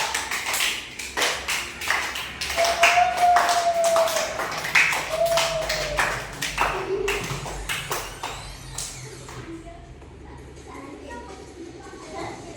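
A fourth-grade class claps hands in quick sharp bursts, loud and close at first and thinning out toward the end, with a teacher's voice speaking over the claps.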